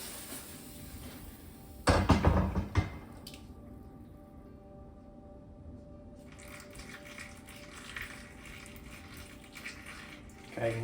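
Water pours into a jar for pickling peppers, a brief loud gush followed by a softer, steady trickling and splashing as the jar fills, close by with a low background hum.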